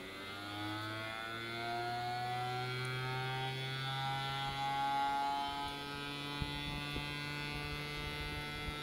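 An old gyroscope spins up with a rising mechanical whine, its steady tones climbing gradually in pitch under a faint hum, with a couple of small clicks near the end and no talking.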